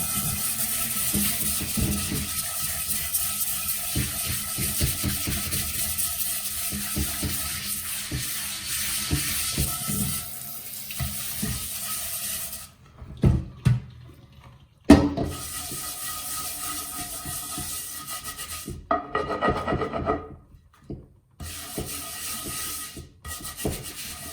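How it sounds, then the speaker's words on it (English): Soapy cast iron cookware is scrubbed hard, with a sides-and-all lather going. It makes a loud, continuous rough rubbing and scouring close by, with brief pauses and a running-water splash near the end. No voices are heard. "make sure you scrub the sides as well, because remember, food has gotten onto that."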